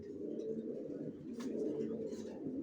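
A pair of young racer pigeons of the Maxi type coo softly and repeatedly nearby, low throaty rolling calls over a quiet background.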